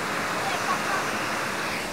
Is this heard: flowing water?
yes